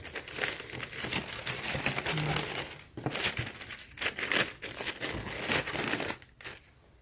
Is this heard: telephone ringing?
no